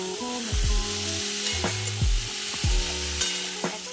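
Vegetables fry in a pan for a vegetarian dish, sizzling softly underneath while a spatula scrapes and stirs in quick, repeated strokes about every half second, close by with no talk.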